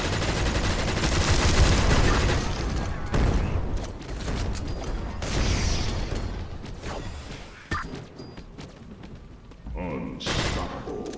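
Rapid bursts of video-game gunfire in Skillshot City, a PvP roguelike battle royale, crackle densely and loudly, sometimes overlapping, with a few thuds and brief gaps, while a player talks over the action.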